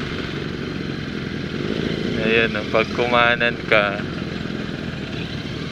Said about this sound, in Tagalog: parang Suzuki din yung motor na ito